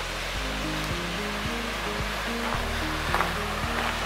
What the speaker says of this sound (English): it is surrounded on all sides by water, and I think it's the Little Pigeon River on all sides